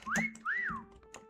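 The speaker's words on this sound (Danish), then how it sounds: "Fløjt igen." Two clear rising-and-falling whistle calls in the video game Meccha Chameleon, close and distinct, separated by a brief pause, with soft background clicks and no speech.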